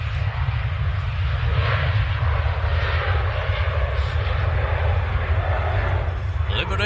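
A Ryanair airliner on its takeoff roll at Manchester Airport, a loud steady engine roar with heavy low rumble sustained throughout, talk mixed in beneath it.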